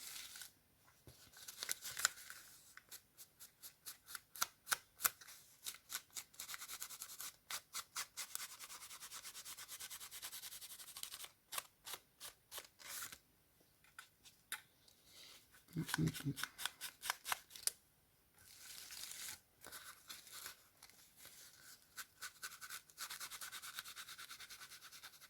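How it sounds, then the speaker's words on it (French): Scissors cutting overhanging lace for a scrapbook page, many quick crisp snips in bursts with pauses between, close and fairly quiet, with brief rustling handling sounds. "Il faut que je coupe aussi, je coupe la dentelle qui dépasse."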